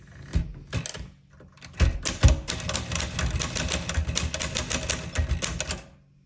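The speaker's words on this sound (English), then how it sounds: "this is a lovely typewriter" Typing on a rare 1961 Everest K2 typewriter with italic type: close, loud keystrokes in a steady clattering run after a few scattered strikes, with no one speaking.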